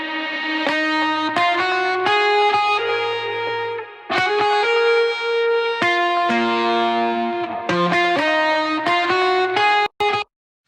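Distorted electric guitar lead run through a Guitar Rig preset, playing sustained, bending notes with heavy effects, loud and continuous, ending abruptly with a brief cutoff.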